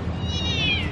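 A stray cat in Jerusalem gives a single drawn-out, high meow that slides slowly downward, close and fairly loud over a low background rumble.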